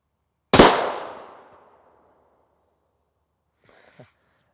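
An armor-piercing incendiary rifle round strikes a ceramic armor side plate with one sharp, loud crack that rings out and decays over about a second, followed by a faint brief thump and breath a few seconds later.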